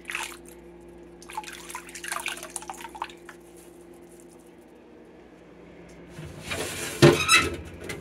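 A refrigerator is wiped out with clear water: scattered soft rubbing and wiping strokes, then a louder burst of watery clatter and handling noise near the end, close and unaccompanied by talk.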